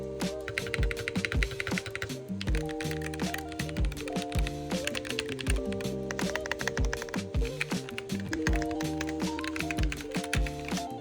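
Rapid typing on a heavy aluminium-cased LUMINKEY Magger 68 magnetic keyboard with linear magnetic switches, a close, steady stream of crisp thocky keystrokes in an uneven rhythm, heard alone with music-like tonal background.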